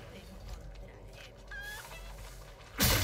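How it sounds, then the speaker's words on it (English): Chickens cluck softly in Resident Evil 4 Remake, a few faint, scattered clucks over ambient game noise, followed by a sudden loud burst at the end. "Chicken."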